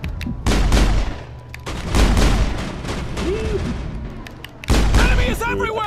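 Automatic turret gunfire from the video game Mass Effect rattles in bursts, with bright sustained stretches and short pauses, loud against game effects and chatter.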